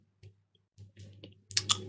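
A computer keyboard clicks during a livestream: a few scattered soft taps, then a short burst of sharper, louder clicks at the end.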